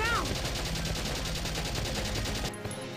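Rapid gunfire from a Valkyria Chronicles battle rattles on steadily for most of the moment, a dense repeating volley that cuts out abruptly near the end.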